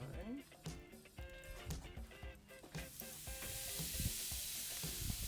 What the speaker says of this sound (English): Get a nice sizzle.